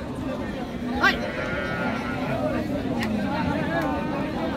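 A Sahiwal milk cow with a bull calf at a busy rural cattle market, lowing once or twice at moderate distance over a constant hubbub of voices and crowd noise.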